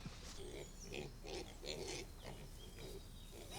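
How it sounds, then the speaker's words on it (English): Pigs grunting out in a field, a run of short, rough grunts in irregular bursts, fairly close, with no one talking. "We move our pigs quite often"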